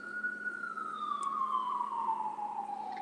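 A distant emergency vehicle siren wails in a single long, slowly falling tone, moderately loud and steady throughout, heard without any talking.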